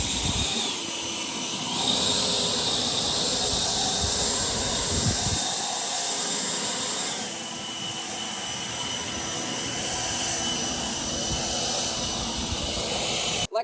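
A Harbor Freight Atlas 80V battery leaf blower running on turbo setting, a loud steady high-pitched whine and rushing airflow hiss that rises in intensity partway through, close by and sustained.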